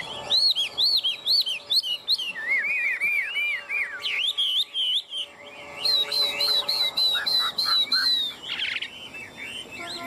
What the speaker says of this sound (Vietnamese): lắc chư này mà chim vẫn hót luôn nha anh em nhá